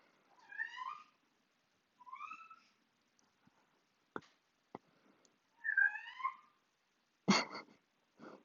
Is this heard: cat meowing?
yes